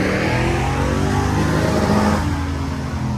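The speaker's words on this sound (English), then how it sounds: "Heard this old Cherokee before, it sounds pretty good." A Jeep Cherokee with an LS-swapped 5.3 V8 roars steadily on a dyno at a hot rod event, the loud sustained engine note holding high before easing slightly near the end.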